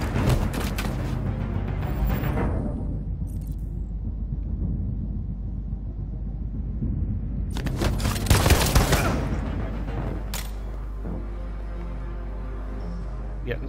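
Bursts of gunfire from the video game Detroit: Become Human, with a dense volley at the start, a quieter rumbling stretch and another loud sharp burst near the middle, then fading tail with scattered shots.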